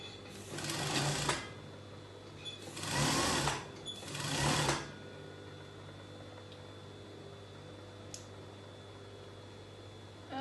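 A home sewing machine stitches a half-inch seam on a circle skater dress in three short whirring bursts, the middle one longest, before the quiet hum of a still room returns.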